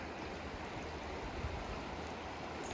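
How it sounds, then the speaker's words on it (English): The Tazlina River in Alaska flows as a continuous broadband rush of water, steady and moderately distant, with no talking over it. "Here's the river."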